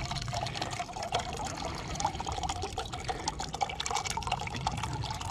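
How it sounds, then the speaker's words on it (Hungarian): Water poured or bubbling in a pot set over a small campfire outdoors to make green tea, a steady liquid trickle and hiss that runs the whole time at close range with no talking. "És rakunk föl még teának vizet, addig, amíg van itt egy kis tüzünk."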